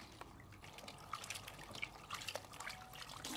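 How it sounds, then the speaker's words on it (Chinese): Duck heads rinsed in water in a home kitchen, a faint trickle and splashing with soft drips and small clinks, quiet and close. "现在把鸭头我给净洗一下"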